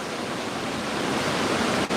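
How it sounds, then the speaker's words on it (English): A creek runs hard outside a condo, a steady full rush of water like broad noise that fills the whole moment without a break. "That creek is running real hard right now."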